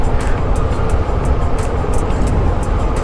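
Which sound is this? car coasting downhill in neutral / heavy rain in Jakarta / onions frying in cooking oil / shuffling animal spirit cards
car coasting downhill in neutral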